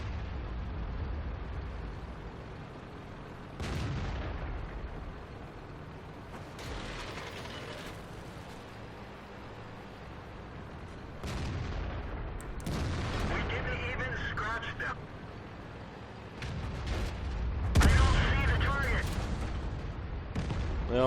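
Tank cannon fire in the World of Tanks video game, several heavy booming shots spaced seconds apart over a low engine rumble, with someone talking between them.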